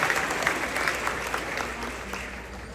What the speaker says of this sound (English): Let's give these students a round of applause for our National Honor Society.